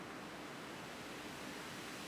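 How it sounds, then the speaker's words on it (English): A quiet wash of filtered white noise for a tech house track, a broad, even hiss with a slight distorted grain that holds steady throughout with no voices. "we can turn on the noise, turn on the filter as well, and assign the macro to the cutoff"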